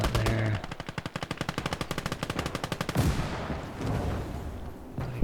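Rapid, steady machine gun bursts in a World War II video game battle, loud and close for about three seconds, then heavier blasts and a rumbling tail of gunfire fading behind.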